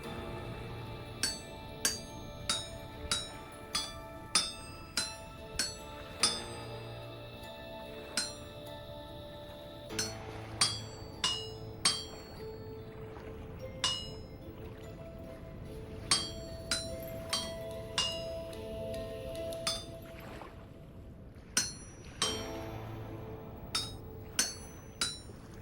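Hammer smithing a tin bronze saw blade in the Vintage Story video game: a steady series of bright metallic clinks on the anvil, evenly spaced strikes in short runs separated by brief pauses, with a faint musical background underneath.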